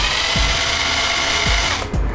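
Cheston 12V cordless drill spinning at high speed, a constant loud whining motor hum with a few faint clicks, heard alone and close up.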